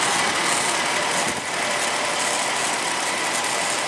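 A 1991 Jaguar XJ6 Sovereign saloon's 4.0 straight-six running, a steady, loud, broadband engine rush heard close and continuous with no talk.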